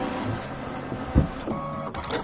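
A sewing machine stitches a quilt-as-you-go border with small bird shapes, a steady mechanical whir at close range with a soft thump midway and a brief rise in pitch near the end.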